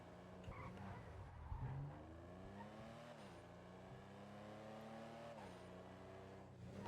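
A car accelerates in GTA 5, its engine note climbing through several rising gear pulls with brief dips between shifts, steady and close throughout, with no talk.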